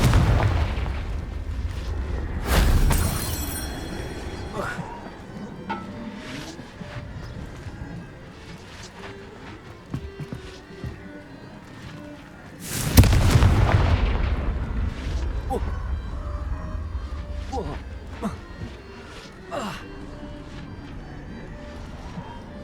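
Confringo blasting spells going off in the Hogwarts Legacy video game: two loud, booming explosions several seconds apart, each with a sharp burst that rumbles off, between quieter stretches of game sounds.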